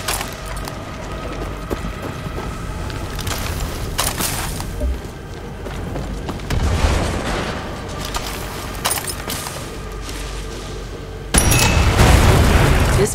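Explosions in Far Cry 6 gameplay, several heavy booms and rumbling blasts spread across the stretch, with the loudest burst near the end over constant game noise.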